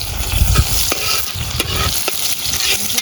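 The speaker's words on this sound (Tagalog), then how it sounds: "dahil sagana tayo sa sibuyas, damihan natin yung sibuyas yung ating gisa" Plenty of onion sautéing for a bottle gourd dish, a steady loud sizzle with repeated stirring scrapes, close up and without talk.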